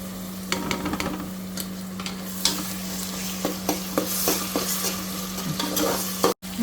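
Onions and tomato puree fry in a pan, a steady close sizzle with a constant low hum underneath, broken by repeated scraping clicks of a spoon stirring, with no talking.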